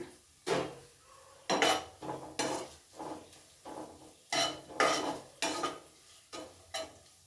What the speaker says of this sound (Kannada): ಇದಕ್ಕೆ ನಾನು ಜೀರಾ ಪೌಡರ್ 1 ಟೀ ಸ್ಪೂನಷ್ಟು ಹಾಕ್ಕೊಂಡು ಅದು ಕೂಡ ಚೆನ್ನಾಗಿ ಫ್ರೈ ಮಾಡೋಣ